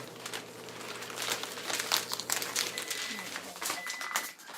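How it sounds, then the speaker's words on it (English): Wax paper is pulled out and crinkled on a home kitchen countertop, making crisp, irregular rustling and crackling bursts, while people talk nearby. "We're going to get some wax paper out here to work on"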